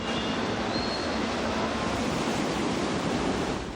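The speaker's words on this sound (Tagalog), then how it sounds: "bumulwak na ang tubig sa kalsada galing sa binahang basement" Floodwater gushes steadily from a flooded basement onto a street beside a market, a dense continuous rushing roar at constant loudness, with no voices.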